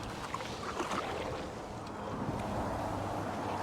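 Kayak paddling into a headwind: a steady rush of wind buffeting the microphone with soft water swishes from paddle strokes, continuous and fairly quiet, no talking.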